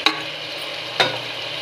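Vegetables with chilli, coriander and turmeric powders sizzle in hot oil in a vegetable kurma pan, a loud constant fry broken by two sharp stirring scrapes about a second apart.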